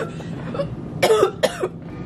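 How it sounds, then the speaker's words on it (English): Two sharp, harsh coughs close to the mic, following a quieter breathy moment, with nothing else around them. "Had this cough for so long"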